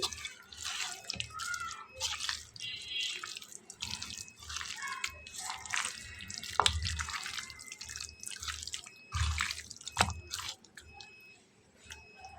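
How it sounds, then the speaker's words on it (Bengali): Raw chicken meat being washed with water and drained, with irregular splashing, dripping and wet handling sounds, close by and uneven in loudness, with no speech. "প্রথমেই মাংসটা ধুয়ে খুব ভালো করে কিন্তু পানিটাকে ঝরিয়ে নিতে হবে"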